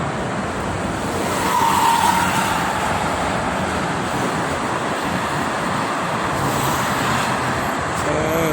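Heavy traffic rumbles along the Pantura road during the Eid al-Adha homecoming rush, a dense, steady roar of passing vehicles that stays close and loud throughout, with a brief swell near the start.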